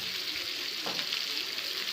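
A sea coral fish fries in a pan with a steady, bright sizzle throughout, and there is a brief stirring scrape near the middle.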